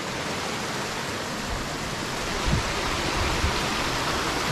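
A small mountain stream on a summer trail flows with a steady, broadband rush of water, close and constant, with no voices.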